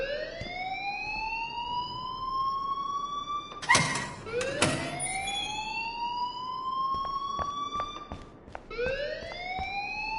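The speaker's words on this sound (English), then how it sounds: "please turn off that alarm since that's your job" In Life Is Strange, an alarm wails in long rising sweeps, loud and continuous. Two heavy door-like bangs cut in partway through, and a few sharp knocks follow.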